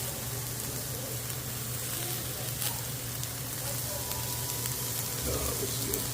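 Steak fries on a STEELMADE flat top grill with Greek seasoning, giving a steady close sizzle and a low hum, with occasional faint clicks throughout.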